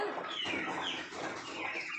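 Chickens on a farm, a flock of around eighty laying hens, make a steady, busy stretch of overlapping clucks and chatter at moderate distance, with no voices.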